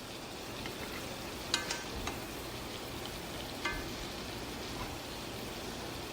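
Seasoned shrimp sizzle steadily in a frying pan for low carb tacos, a soft continuous crackle with a few faint clinks and taps of a utensil, no voices.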